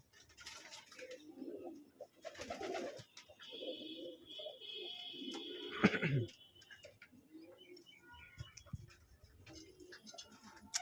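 Pigeons in a home loft give soft, low coos in short repeated bursts, near and fairly quiet, with a faint ticking and a little quiet talk in the background.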